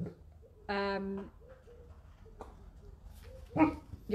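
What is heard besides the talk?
dogs barking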